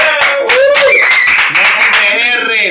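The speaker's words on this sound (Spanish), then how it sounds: "¡Un aplauso!" Short burst of audience clapping during a studio interview, loud and close, with voices talking and laughing over it.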